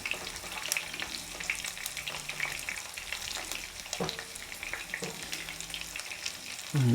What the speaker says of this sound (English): I love frying chicken.